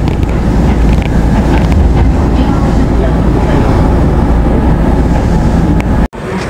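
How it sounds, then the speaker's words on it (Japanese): An Urban Liner limited express train bound for Osaka-Namba rushes through a station close by with a loud, continuous roar and heavy wind buffeting, steady throughout until a brief dropout near the end. "大阪難波駅のアーバンライナー通過です。"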